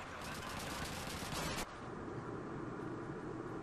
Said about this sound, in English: I have this British machine gun, which, like, the only accurate shot is the first one